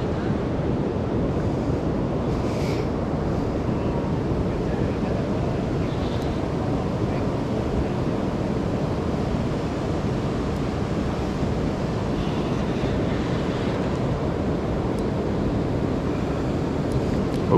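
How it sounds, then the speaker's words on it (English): Steady broadband rush of water pouring over the Tippy Dam waterfall during salmon fishing, a loud continuous roar filling the scene with wind buffeting the microphone and faint voices in the background. "Stay away from that waterfall."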